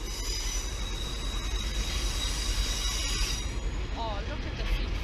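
A Sheffield SuperTram runs along its rails, wheels squealing in high sustained tones over a steady rumble of the moving tram, heard from nearby for several seconds before the squeal fades near the end.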